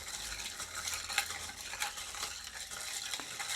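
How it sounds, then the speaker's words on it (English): A long bar spoon stirs a spiced rum cocktail over crushed ice, giving a continuous close rattle and crunch of ice against glass with light clinks, and no talking. "take a long bar spoon, give it a stir"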